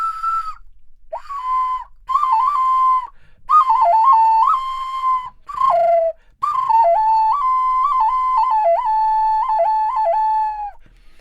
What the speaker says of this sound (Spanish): Otro silbato réplica de uno que se encontró en Michoacán